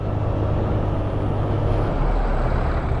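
Steady, dense road rumble from heavy loaded trucks passing nearby on a provincial route to Bicol, with a low drone and broadband hiss throughout, no clear pauses.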